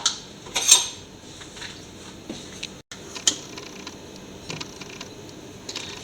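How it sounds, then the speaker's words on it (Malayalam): Brown sugar spooned into butter in a bowl for banana bread, heard as a few sharp metallic clinks and scrapes of a spoon against the bowl, close and alone, with quiet gaps between. "അതിനുശേഷം ബട്ടറിൻ്റെ അകത്തോട്ട് ഒരു മുക്കാൽ കപ്പ് ബ്രൗൺ ഷുഗർ എടുക്കാം"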